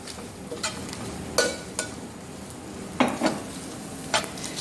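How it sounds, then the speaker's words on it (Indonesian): Spice paste of shallots and garlic is stirred and sautéed in a pan for sosis cabe ijo, giving a soft background sizzle broken by several sharp scrapes and clinks of a utensil against the pan. "Ibu Eli sedang membantu saya menggongsek bumbu ini agar sedikit"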